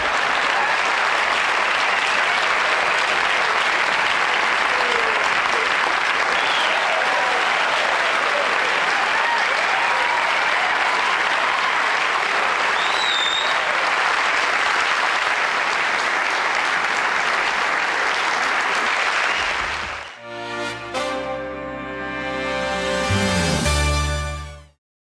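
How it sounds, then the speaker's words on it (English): A late-night television studio audience applauds loudly and steadily for about twenty seconds, a dense wash of clapping that breaks off into a short burst of band music at the end. "I'm humbled by that applause."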